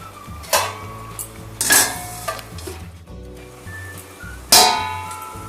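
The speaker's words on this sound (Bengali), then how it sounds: "ঢাকাটা খুলে দেখবো এবার আমি" A metal lid comes off a pot of simmering chicken rezala, leaving a few sharp clanks spaced apart, with stirring and faint sizzling in between over a low background tone.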